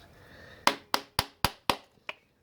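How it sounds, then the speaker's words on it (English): A soft hammer strikes old, fragile Honda CB350 engine parts during a teardown, giving six close, sharp taps at a steady pace, the last one lighter. "I'm just using a soft hammer to remove these."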